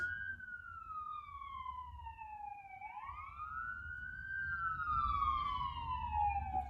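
A loud ambulance siren wails, its pitch sliding down, rising again, then falling as it passes, over low traffic rumble.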